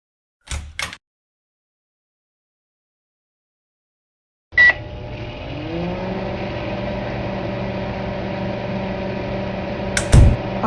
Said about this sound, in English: Alright, the microwave is now on.